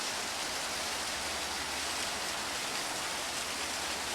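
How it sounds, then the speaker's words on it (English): Water runs all around at the Continental Divide on a road trip toward Alaska, a steady, close, broadband rushing with no voices. "And the water's running. I don't think I can pick it up where I can see it, but you can hear it"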